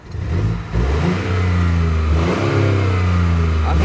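A BMW 118i in sport mode revs up close, its engine rising from a low idle into a steady, sustained mid-pitched whine and rumble that holds for several seconds.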